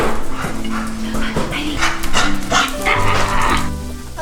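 Several puppies yip and bark close by in quick, overlapping bursts, with small whimpers between the barks across the whole stretch.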